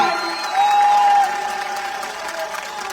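An audience in a hall in Indore claps, steady dense applause that swells briefly then settles into a softer, continuing patter, with a faint tone ringing through.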